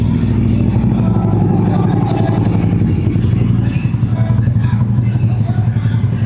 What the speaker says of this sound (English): here comes a motorcycle by us right now